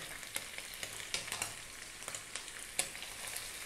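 Onion, carrots and garlic fry over medium heat in a pan alongside beef, giving a faint, steady sizzle broken by soft stirring clicks and scrapes throughout, with no voices.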